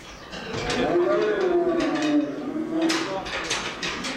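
Several calves low loudly and close by, long drawn-out moos overlapping across the clip, with farmyard clatter and faint voices around them.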